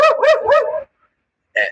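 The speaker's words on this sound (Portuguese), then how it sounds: "Opa, cachorrinho." A small dog on a residential street in São Paulo barks three quick times in a row, close and clear, then pauses and gives one more short bark.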